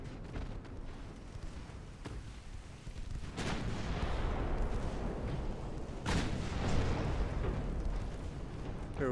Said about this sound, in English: Open up and give them the full broadside,